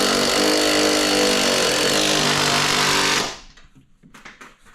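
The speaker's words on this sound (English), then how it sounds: "Put our bottom bolts and our top nuts back on and tighten them down." A loud, steady power tool buzzes while tightening bolts and nuts on a 2007-2013 Silverado/Sierra truck during a CV axle job, then cuts off abruptly, leaving faint clanks and rattles.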